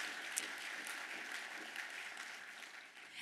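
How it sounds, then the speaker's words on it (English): Audience applause after thanks to the center and gallery staff at a public speaking program, a steady wash of clapping throughout with no one speaking. "So a round of applause for them"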